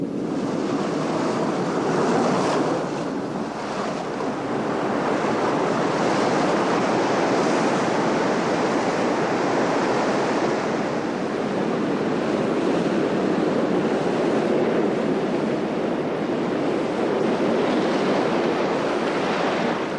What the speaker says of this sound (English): These surging waves bring food and oxygen to sustain the plants and animals which flourish in these southern waters